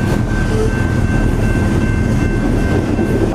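A train rolls over a penny left on the rails, a steady loud rumble of rail cars with a faint high whine running throughout, no voices.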